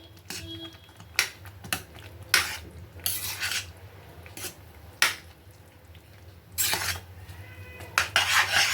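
Lapshi kheer of broken wheat being stirred in a pot after a cup of grated fresh coconut goes in, giving repeated scraping, clinking spoon strokes in uneven bursts over a steady low hum.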